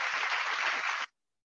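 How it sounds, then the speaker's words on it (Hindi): An audience claps loudly and steadily for a company CMD at a business presentation, a dense burst of applause that stops abruptly after about a second. "इनके लिए भी जोरदार तालियां होने चाहिए फ्रेंड्स"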